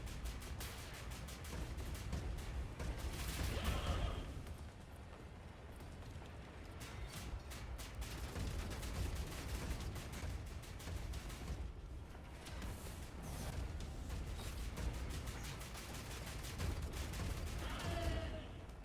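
Rapid bursts of automatic machine gun fire in the video game Wolfenstein: The New Order, a fairly faint, repeated rattle of overlapping shots under steady background noise, with no talking.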